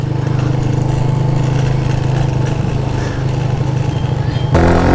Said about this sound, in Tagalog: Ayan, second gear. Ayan, third gear ako. Ayan, rev match tayo. Engine brake.